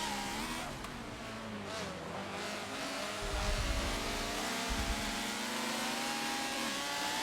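A Honda S2000 engine in Forza Motorsport 7 drones steadily at high revs while racing uphill, a constant loud buzzing tone with a deep rumble swelling briefly midway.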